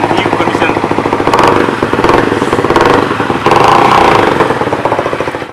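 A second-hand motorcycle's engine runs steadily at a roadside bike dealer in Kheroni, Karbi Anglong, its loud, continuous rattling drone swelling slightly in a few surges.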